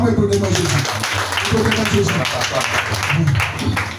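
A church congregation claps and applauds steadily during a French-language sermon, with voices and speech mixed in over the clapping.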